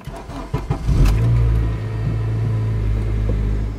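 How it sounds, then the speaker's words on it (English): A car engine cranks and catches, then settles into a steady low rumble while being held at around 1500 RPM, loud and close with no talking over it. "So we're going to start the car and then hold it up to 1500 RPMs."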